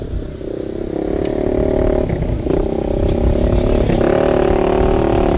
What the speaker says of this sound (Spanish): Así está llegando la moto aquí al puerto San Antonio Este.